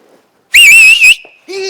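A person gives one sharp, loud, high whistle of about half a second, then a shorter tonal note follows after a brief pause.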